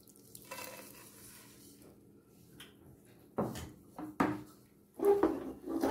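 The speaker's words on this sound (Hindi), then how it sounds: "और कंटिन्यू चलाते रहिएगा, नहीं तो जल जाएगा" Jaggery being stirred into ghee in a pan over a low flame, with a few sharp scraping and clinking strokes of a spoon against the pan standing out over a quiet background and faint sizzling.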